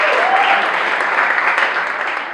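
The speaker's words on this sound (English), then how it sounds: "You'll probably have to wait a moment while people applaud like crazy at this fantastic news" A studio audience applauds during a comedy talk-show monologue, a dense, steady wash of many hands clapping at close range that continues without a break and fades slightly at the end.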